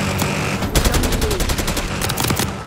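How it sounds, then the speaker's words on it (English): Rapid video-game gunfire in a multiplayer match, with dense overlapping automatic bursts and single shots that are loud and continuous over a busy battlefield background. "We're taking fire."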